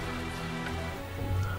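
Steady rain in the video game Tales of Zestiria, a soft continuous patter spread evenly through the short stretch with no voices over it.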